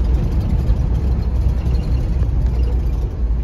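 Steady low engine drone and road rumble from inside a car with a Ford C6 automatic transmission cruising in second gear, continuous and loud with no breaks.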